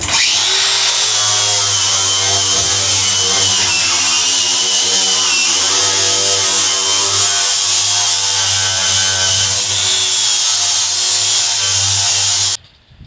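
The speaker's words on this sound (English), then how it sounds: "To grind it down, I've got my grinder out here" An angle grinder with a disc grinding metal on an old gravity wagon runs loud and steady for about twelve seconds with a high, whining grind, then cuts off abruptly.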